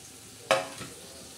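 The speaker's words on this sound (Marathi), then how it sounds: "आता आपण हे वांगे आता याच्यात वांगे टाकणार आहोत." Brinjal pieces tipped into hot frying masala with bombil set off a sudden loud sizzle that fades quickly, followed by a smaller second hiss and soft stirring.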